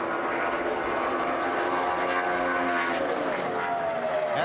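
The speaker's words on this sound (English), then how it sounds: "it sounds like the clutch is going in and the engine's shutting off on the car" A NASCAR stock car at the 2011 Hollywood Casino 400 roars steadily past as it heads into turn three. The engine note shifts and falls away as the clutch goes in and the engine cuts off.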